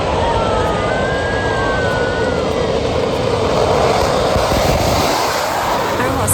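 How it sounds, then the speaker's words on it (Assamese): Indian Air Force fighter jets, including Rafale, Sukhoi and Tejas, fly over a highway air display in Northeast India, producing a loud, continuous engine roar with a thin whine sliding up and down above it. "গোটেই আকাশত উৰিছে ৰাফেল, সুখোই, তেজাছ আদি 16খন যুঁজাৰু বিমান আৰু বিখ্যাত কাৰ্গো বিমান।"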